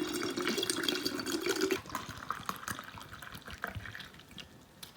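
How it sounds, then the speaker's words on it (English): Coconut water poured into red raspberry leaf tea infusion, a steady near liquid stream for about two seconds, then quieter splashes and drips, ending in a brief sharp knock. "our next step is to pour 2 cups of coconut water into our 2 cups of red"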